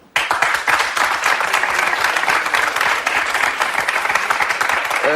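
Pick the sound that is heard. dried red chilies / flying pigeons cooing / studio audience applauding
studio audience applauding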